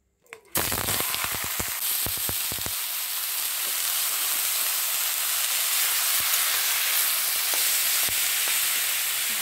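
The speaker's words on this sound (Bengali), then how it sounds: "এবার এই ভুষ চিংড়িগুলো তেলের মধ্যে দিয়ে দেব।" Small shrimp dropped into hot mustard oil, a sharp initial crackle settling into a loud, steady, broadband sizzle that keeps hissing evenly as they fry.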